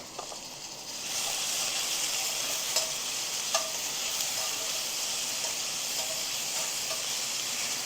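Garlic sizzles in a hot pan for a curry-duck, dhal and rice meal, a steady hiss that swells after the first second and holds, with a few light clinks of stirring and no talk.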